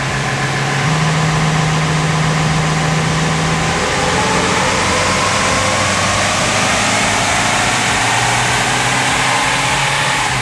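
Diesel engine of a Nissan NP300 Navara ute on a dyno, running loud and steady with a rising drone throughout, no voices.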